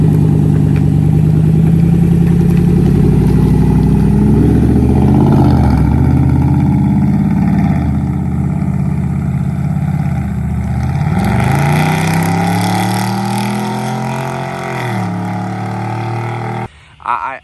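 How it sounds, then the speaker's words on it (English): A 2021 Chevy Silverado Trail Boss with the 6.2 V8 and a loud true dual straight-pipe catback exhaust rumbles close and steady, rising and falling through revs before cutting off near the end. "I still run on every single truck true dual catback straight pipe, and I love it."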